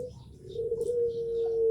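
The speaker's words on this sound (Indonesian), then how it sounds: "puter pelung" A puter pelung dove gives a close, steady low coo that swells and holds, alone without talk.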